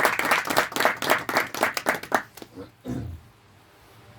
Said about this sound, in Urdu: تالیاں بجائیں ایک بار.